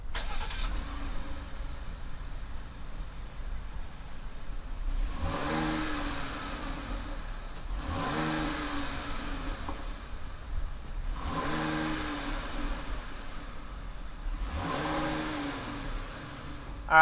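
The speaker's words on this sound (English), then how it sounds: "Here we are with the V6. Why don't we go ahead, fire it up, and see what it sounds like." A 2020 Dodge Durango GT with a V6 engine idles steadily, then revs up four times in evenly spaced bursts, each rising and falling back to idle, heard close and alone.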